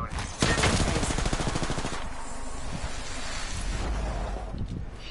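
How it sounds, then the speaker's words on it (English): Dense rapid video game gunfire sprays toward the player in continuous bursts of automatic fire, loud and close, with noisy roaring bleeding into it. "They're shooting at me!"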